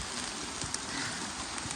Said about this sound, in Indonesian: Mana hujannya nggak mau berhenti